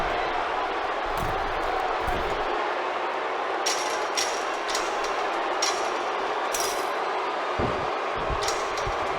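Crowd roar fills a wrestling arena in WWE 2K19, a steady loud wash of cheering with scattered sharper shouts and thuds from the ring throughout.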